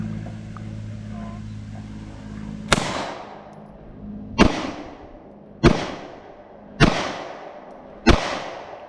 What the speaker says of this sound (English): Just put a couple shots down range.